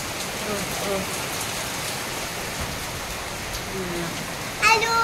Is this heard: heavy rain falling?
yes